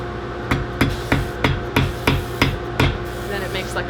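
A hammer sets a rivet on handmade corset armor, landing about eight evenly spaced, close, sharp strikes in a steady rhythm over a low background hum.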